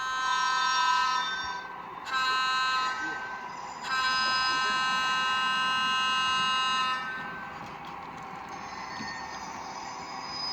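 A model locomotive horn on an HO scale ALCO PRR RS-3 sounds for a grade crossing in several long blasts separated by short gaps, with a rolling rumble beneath and a sustained final tone.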